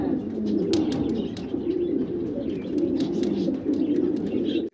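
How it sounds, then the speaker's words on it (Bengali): Several pigeons at a breeding setup coo in a continuous low, warbling drone, close and steady, with faint light clicks and chirps over it, no talking. "এখানে সিঙ্গেল সিঙ্গেল আরো 2 পিস কবুতর আছে।"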